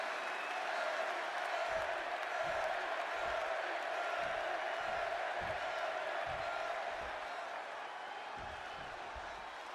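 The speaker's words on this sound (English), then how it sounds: "And just listen to this crowd here in Chicago." Wrestling arena crowd in WWE 2K26, a Chicago audience cheering CM Punk, a dense sustained roar with scattered whoops and clapping, loud and continuous throughout, with low rhythmic thuds underneath.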